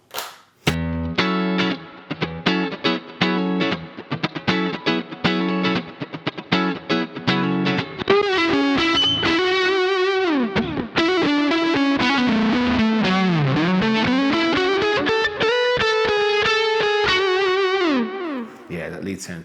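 Electric guitar lead tone from a Line 6 HX Effects preset with amp switching, heard first as choppy picked notes, then as loud, sustained distorted lines with wide pitch bends and a bright top end.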